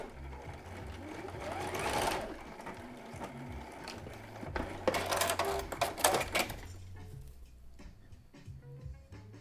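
A sewing machine stitches lingerie fabric in rapid mechanical bursts, running steadily, pausing briefly, then racing again at close range, with a low hum between runs.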